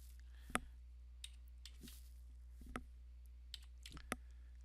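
Quiet, sparse keystrokes on a computer keyboard, a handful of isolated clicks spread out over a low steady hum, close but faint.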